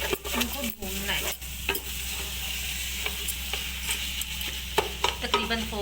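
Carrots for gajar ka halwa being stirred and fried in a pan, with a continuous sizzle under repeated scraping strokes of a spoon, close and steady.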